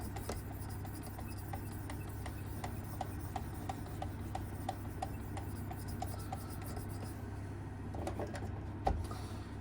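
A Work Sharp Precision Adjust knife sharpener's abrasive rubs along a knife blade in a steady run of repeated strokes, a soft close scraping rasp that stays fairly quiet and even with no talk.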